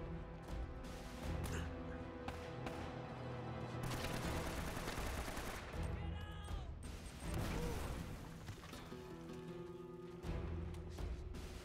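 Gunfire in the action video game Uncharted, bursts of rapid shots and sharp cracks over a dense layer of game music and effects, quiet overall and continuous.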